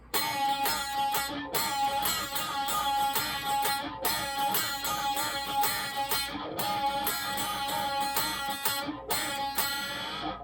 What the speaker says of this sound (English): So up to speed, it sounds something like this.